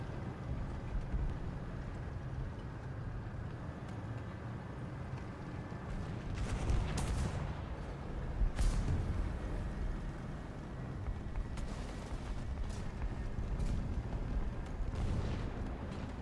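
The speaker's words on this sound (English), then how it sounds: "Artillerieschlag auf Koordinaten." Artillery shells land in a War Thunder tank battle, several booming impacts spaced out over a rumbling low background, sounding moderately distant and heavy.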